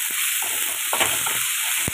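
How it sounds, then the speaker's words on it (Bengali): Mushrooms, onion and garlic sizzle steadily in hot butter in a pan, with soft scraping as they are stirred and no talk. "আমি দিয়ে দেবো মাশরুমগুলো"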